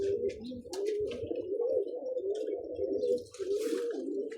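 Pigeons resting in a loft on a hot day coo continuously in low, rolling, overlapping calls, close and steady, with faint chirps and rustles above.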